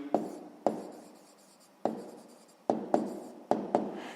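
A pen writes numbers for a sixth-grade maths exercise on finding percentages, giving sharp taps and scratchy strokes that come in short bursts, each fading away before the next tap, close and quiet with no talk.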